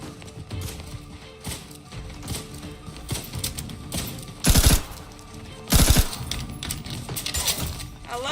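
Rapid machine gun fire rattles in a video game, a quick mechanical stream of clicky shots with two louder, heavier bursts standing out midway.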